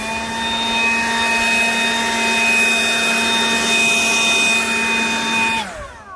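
A handheld blower used to dry a painting roars with a steady, loud, high whine, then cuts off and winds down abruptly near the end.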